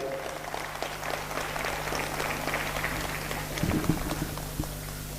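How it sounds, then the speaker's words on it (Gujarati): Audience applause greets the main sponsors at a Gujarati comedy show, a steady wash of clapping that swells slightly near the end, with a low hum running underneath. "આપણે તાળીઓથી એમને વધાવીશું"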